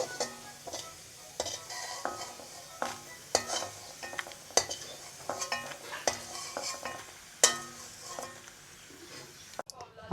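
Fried ginger and garlic sizzle gently in a pan while a metal utensil repeatedly stirs and scoops them out, giving sharp scraping clinks at an irregular rhythm over a soft frying hiss.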